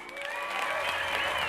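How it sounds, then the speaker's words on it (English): A brief burst of audience applause, dense and fairly close, with rising whistle-like cheers over the clapping. "Please hold your applause."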